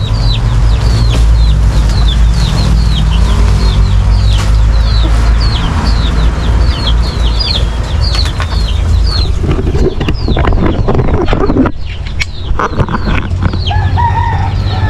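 Chickens, including hens, cluck and chirp repeatedly in a busy, close flock, with a rooster-like call mixed in over steady background noise.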